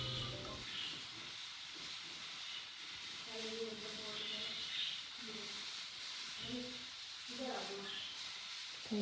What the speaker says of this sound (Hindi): ये जनाब कुकर के चलने की आवाज़ें हैं